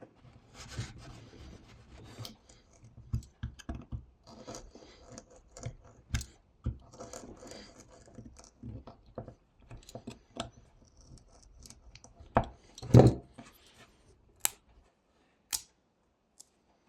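A knife whittles a wooden sea turtle carving, trimming off an extra piece in close, quiet, irregular scraping and rasping strokes with short pauses and a few sharper snaps.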